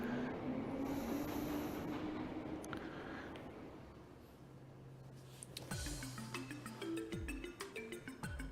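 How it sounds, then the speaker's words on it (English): Train ride to Calvard in the video game Trails From Zero, a steady rumbling carriage hum with wheel clatter and game music tones entering near the end, no talk. "Now we're on the train to Calvard."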